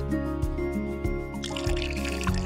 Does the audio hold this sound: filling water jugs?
yes